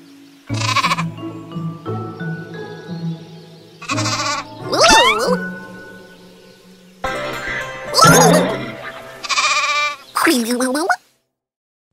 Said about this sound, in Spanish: There sure are some crazy colored sheep on this farm.